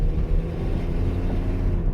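A car with a faulty, overly loud exhaust, heard as a steady low droning rumble from inside while driving, with no talking.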